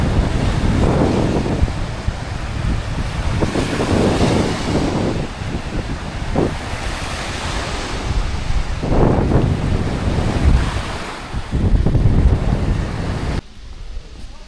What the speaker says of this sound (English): oh, what a really nice bit of beach